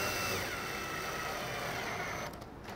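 A drill slowly drives screws into wood while an Adirondack chair is assembled with a T25 bit, giving a steady close motor whine with a slight pitch shift that tapers off near the end.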